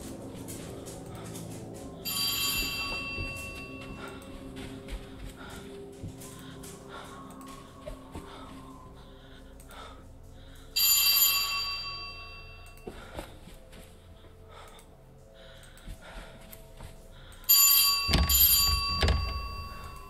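Service bell at a hotel front desk in the horror game At Dead of Night, struck in a few bright ringing bursts with long metallic tails, separated by quieter stretches of eerie background ambience and thuds.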